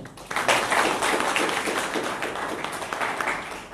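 A crowd applauds, a dense wash of many hands clapping at moderate volume, steady throughout without voices standing out.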